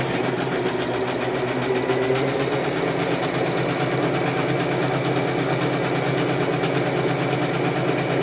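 Sewing machine stitching two pieces of dress fabric, run from a foot pedal with the presser foot holding the material, giving a steady close mechanical whir with rapid needle rhythm throughout.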